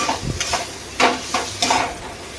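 Spoon scrapes and clinks against a pan as ginger paste is stirred into hot oil with spice masala for chana paneer, a few short stirring strokes over a soft sizzle.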